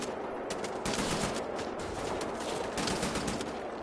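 Sustained automatic gunfire in the video game Wolfenstein: The New Order on PS4, a dense, loud, continuous clatter of rapid shots filling the whole stretch with no pauses.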